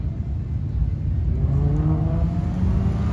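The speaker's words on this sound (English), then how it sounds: "Just hear that engine sing, isn't that awesome?" A sports car built as a homage to a 1956–1964 Ferrari revs on the Brands Hatch racetrack during a GT racing event, a steady engine drone rising in pitch, moderately loud and somewhat distant.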